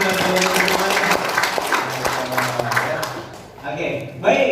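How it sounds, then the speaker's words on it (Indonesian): Seminar attendees at a business training session applaud together, a dense wash of clapping mixed with crowd voices that thins out toward the end. "tepuk tangan buat teman-teman"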